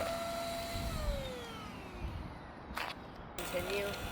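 A Haimeec stick vacuum cleaner sucks up sand with a steady, whining motor hum and a few short, louder bursts of suction.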